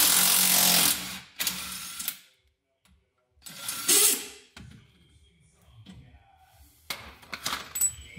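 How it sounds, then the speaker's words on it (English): Impact wrench spinning out long bolts while removing a Nissan 240SX rear differential, heard as several loud, buzzing bursts of a second or so each, separated by gaps, with fainter clanks between. "If you have an impact, spins them out way faster."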